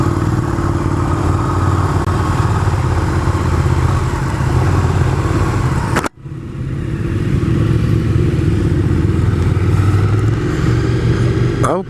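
A Ducati 848 Streetfighter motorcycle being ridden, its engine a loud continuous drone heard up close, dropping briefly as the throttle closes midway before climbing back to a steady roar.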